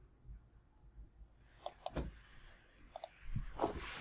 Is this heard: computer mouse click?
yes